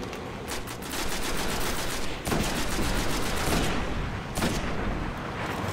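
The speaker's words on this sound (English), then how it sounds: "Got a couple of shots on him." Sustained rapid gunfire in the video game Destiny, dense overlapping bursts of automatic shots and blasts that roll on loudly for several seconds, with a few sharper cracks standing out near the end.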